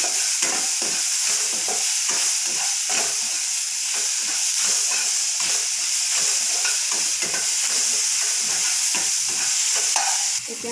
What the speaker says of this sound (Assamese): এতিয়া এইখিনি মই অকণমান সময় ভাজি ল'ম।